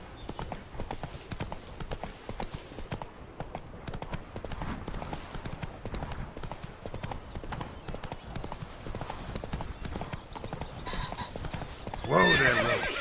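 Roach the horse in The Witcher 3 gallops with rapid rhythmic hoofbeats close by, ending in a loud whinny as the pace breaks.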